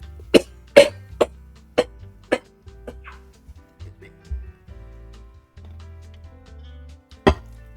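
Several sharp coughs in a quick burst near the start, then a few scattered ones with quiet gaps, and one last loud cough at the end.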